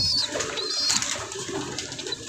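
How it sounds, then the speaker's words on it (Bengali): A colouring Raj Gulla pigeon coos softly at close range, its short throaty calls over a faint background hiss. "এই কবুতরটা হচ্ছে বেস্ট, সকলেই পছন্দ করে।"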